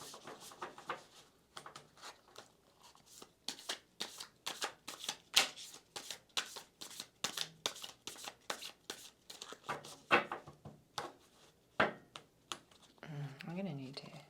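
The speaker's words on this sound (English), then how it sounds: "let's shuffle and get some nice fresh energy in these cards" Tarot cards being shuffled by hand, a run of crisp riffling and slapping bursts in irregular rhythm, close and fairly quiet, with a brief voice near the end.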